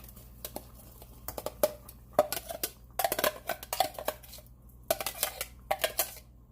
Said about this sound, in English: I'm going to go ahead and put in the veggies